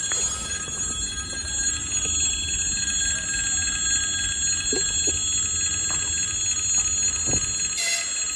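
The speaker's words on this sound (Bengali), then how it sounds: "যখন ট্রেন আসে এরকম ট্রুং ট্রুং করে সিগন্যাল দেয়।" A warning signal bell at a Moscow railway station rings steadily as a local train approaches, a continuous high ringing over low rumbling platform noise, with no talking.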